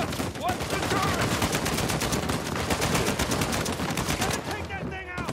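Heavy mounted turret gunfire in the action game Uncharted 4, a dense, sustained stream of rapid shots close and loud, with a voice speaking briefly over the barrage.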